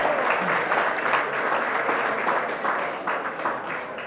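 An audience at a nonprofit awards celebration applauds an honoree, a full, close round of clapping that stays steady and gradually eases slightly.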